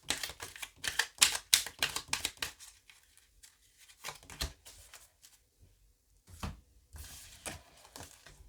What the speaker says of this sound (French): je vais vous tirer une carte de l'oracle